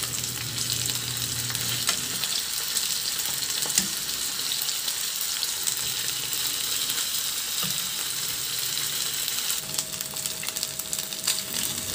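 Chicken wings fry in a pan, a steady close sizzle and crackle of hot oil continuing throughout with occasional soft clinks, with no talking.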